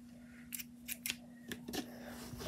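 A pair of scissors handled close by in a quiet room, giving a few sharp snips and clicks spread irregularly over a couple of seconds above a faint steady hum.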